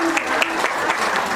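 Women in a hall applauding together at an International Women's Day gathering, a dense, steady clapping that fills the whole moment at a loud, even level.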